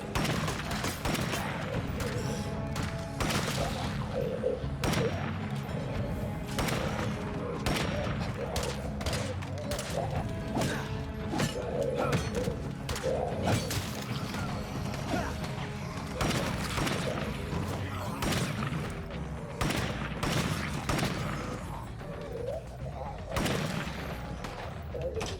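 Rapid, dense gunfire in State of Decay 2, a zombie survival game, with loud overlapping shots and bursts filling the scene almost continuously, and a voice talking at times.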